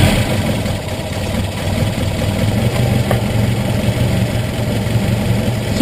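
A car engine idles steadily with the ignition timing being set using a timing light, a constant low rumble with faint vibration running evenly throughout, close by and with no talking.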